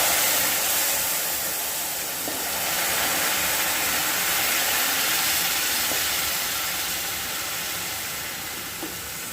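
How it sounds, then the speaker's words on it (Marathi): Hot water is poured onto hot roasted semolina for lapsi, a sweet porridge made with jaggery, giving a steady, loud broadband hiss of steam and pouring water that continues throughout with no talk. "आपण ओतताना हे पाणी आधी थोडं थोडंच ओतायचं आहे"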